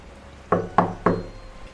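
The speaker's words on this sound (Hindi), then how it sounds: "उसकी सोच में खलल तब पड़ा जब दरवाजे पर अचानक दस्तक हुई।" Three sharp, evenly spaced knocks on a wooden door, loud and close, each followed by a brief hollow resonance, set against a quiet background.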